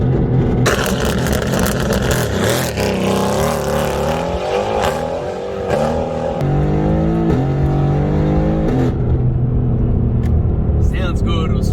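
Mercedes-AMG GT R engine accelerating hard on a real drive, a loud continuous roar rising in pitch through successive gears with a harsh rasp throughout.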